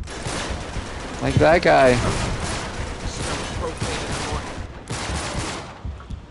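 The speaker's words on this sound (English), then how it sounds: "There's just so many people firing in so many different directions." Dense overlapping gunfire from many shooters rattles continuously in an Uncharted 3 firefight, with someone talking over it briefly.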